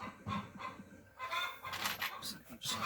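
A chicken squawking outside near a backyard garden, with several loud, harsh bursts of clucking and honking calls in quick succession at moderate distance.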